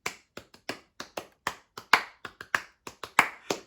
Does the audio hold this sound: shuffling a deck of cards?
no